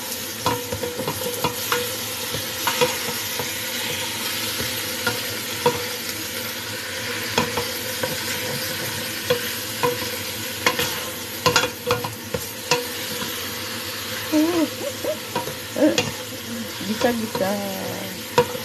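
Chicken being sautéed in a home kitchen pan, a steady close sizzle with frequent scraping and stirring clicks of the utensil throughout, some faint background voice and kitchen noise.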